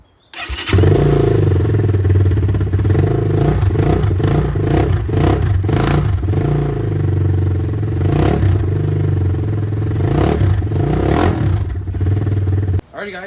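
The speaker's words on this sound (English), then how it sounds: "Bike starts before our modification and bike starts after our modification." A 2025 X-Pro Templar 250 motorcycle, fitted with a 4 degree timing key, cranks and fires up, then idles with a loud, close, uneven single-cylinder thump and mechanical clatter, with a few blips of revving before it cuts off.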